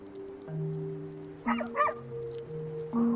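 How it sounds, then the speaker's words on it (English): A few short, distant dog barks and yips ring out in a quiet night setting, with a faint steady hum underneath. "we don't need special equipment to hear dogs barking"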